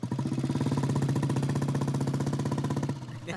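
A motorcycle engine runs steadily close by with a fast, regular pulsing beat that holds level for about three seconds, then drops off sharply near the end.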